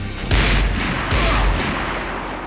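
Gunfire in the shooter game Max Payne 3 during a firefight with an enemy sniper, two heavy booming shots roughly a second apart, each trailing into a rumbling tail.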